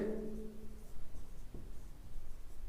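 A Class 10 locus math solution being written out by hand: a faint, continuous scratchy stroke sound close by, with a low hum at the start and no speech.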